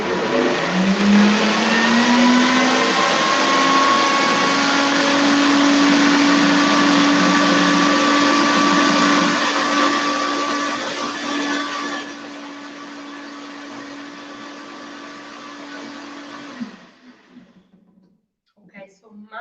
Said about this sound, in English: now I am going to move the function to the 20-second preset function